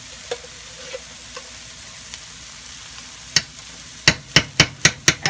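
A tomato-onion gravy fries in ghee under a low, quiet sizzle with scattered light taps, then a quick run of loud, regular spatula knocks against the pan as it is stirred.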